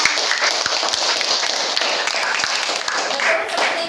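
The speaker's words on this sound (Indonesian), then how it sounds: "tepuk tangan semuanya" Students in a classroom clap together in a dense, steady burst of applause that stays loud throughout, with scattered voices mixed in.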